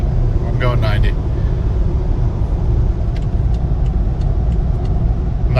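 A BMW X3 35i M Sport pulls ahead on a highway with a steady, loud engine and road rumble that stays close and continuous, while someone talks over the drive.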